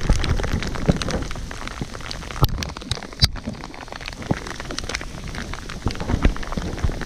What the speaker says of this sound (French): Je me prends la grêle pour la tronche.